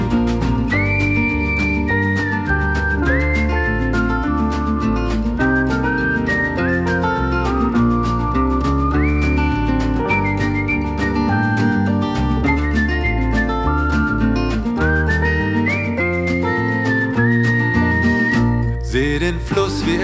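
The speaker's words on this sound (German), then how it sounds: "dann pfeif ich mir ne Melodie von Anfang an" A bright whistled melody carries a cheerful hiking tune, steady and prominent over a full band backing in a German pop song.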